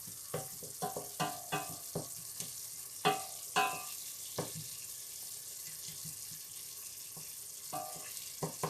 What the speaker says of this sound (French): on va bien pouvoir cuire les oignons